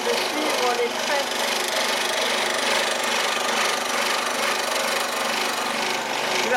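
A scroll saw runs steadily while cutting wood for a Christmas village piece, a continuous buzzing whir at close range that holds level throughout.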